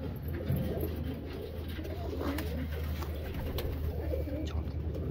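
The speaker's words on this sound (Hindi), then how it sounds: "एक से एक खूबसूरत कबूतर है भाई के घर पास" Soft, low cooing of Sonipat Lalban pigeons, repeated murmuring calls close by against a steady background hum.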